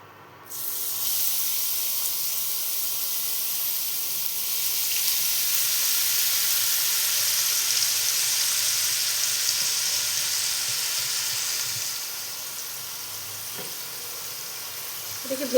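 Radish sizzles hard in hot oil after a nigella seed tempering, a loud hissing fry that bursts in at once and holds steady, easing slightly toward the end with a light clatter.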